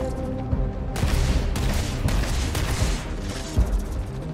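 Grenade explosions in Starfield, several loud booming blasts in quick succession with broadband bursts, one heavy thump near the end, amid ongoing combat noise and no talking.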